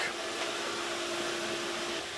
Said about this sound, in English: that's the vacuum pump itself, which actually sucks the oxygen out of the chamber